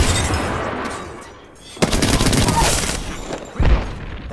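An R-99 submachine gun in Apex Legends fires in loud, rapid bursts, with a short lull before a second sustained stream of shots and a heavy thump near the end.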